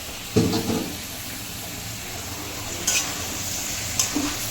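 Duck meat being stirred and fried with spices in a pan over medium heat, a steady sizzle running throughout with a few scraping stirs and clinks of the spoon, close and alone without talk.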